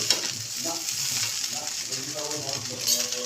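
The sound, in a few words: stirring and frying rice in a pan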